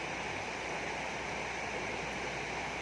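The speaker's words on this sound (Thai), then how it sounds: "อันนี้เป็นลำธารนะครับ" Steady broadband rush of a stream flowing over rocks at a spot where elephants bathe, continuous and fairly even throughout with no voices.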